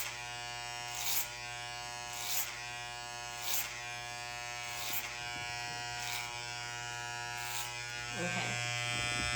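Electric hair clippers buzz steadily and close while thinning hair is cut, with a soft swish each time the blade runs through the hair, about every second.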